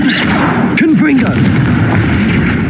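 A fire spell cast in the Hogwarts Legacy video game bursts with a loud blast over a dense, continuous magical roar, with a voice briefly sounding over the effects.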